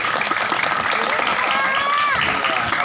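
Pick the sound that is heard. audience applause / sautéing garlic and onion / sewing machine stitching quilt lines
audience applause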